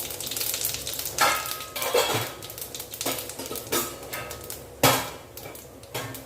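Urad dal, cumin and mustard seeds fry in oil in a kadai, a steady sizzle and crackle broken by several louder scrapes and knocks of a spoon stirring against the pan.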